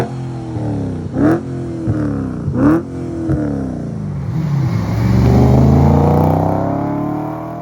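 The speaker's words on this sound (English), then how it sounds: "let's fire it up and have a listen to how this thing sounds" Audi RS4 B7 engine starts, then blips through several sharp revs, rising and falling in pitch, before settling into a louder, rougher sustained rev. Close and loud, with no speech.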